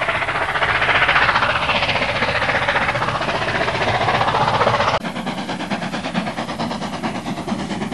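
Steam locomotive 3450 Red Devil hauls a 1,200-ton train along the main line, a loud, continuous thrashing roar with a rhythmic mechanical beat, shifting abruptly partway through.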